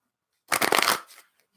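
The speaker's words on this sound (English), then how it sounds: "you can hear me do it. So I can shuffle them easy enough" A deck of tarot cards shuffled by hand, one quick burst of riffling cards close up lasting about half a second and then fading to quiet.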